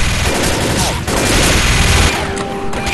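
Dense, loud gunfire from a Left 4 Dead firefight rattles almost nonstop for about three seconds, with rapid overlapping shots and a brief dip in the middle, while voices shout over the clamour.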